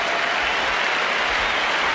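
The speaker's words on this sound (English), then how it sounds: "this massive crowd quick to appreciate what Alan Border has tried to do" A large cricket crowd at a 1983/84 World Series Cup match applauds a batsman reaching fifty, a dense, continuous roar of clapping and cheering heard from a distance.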